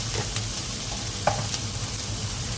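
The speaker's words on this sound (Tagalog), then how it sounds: "Ang ating onion. Igisa natin." Onion sautéing in a pan gives a steady, close sizzle with light stirring scrapes and a few soft clicks, no talking.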